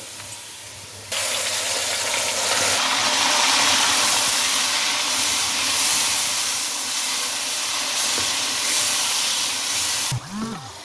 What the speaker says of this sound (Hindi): जब प्याज हमारा गोल्डन कलर का हो जाए तो इसमें जो हमने गोश्त मैरिनेट किया है वो उसको शामिल कर दें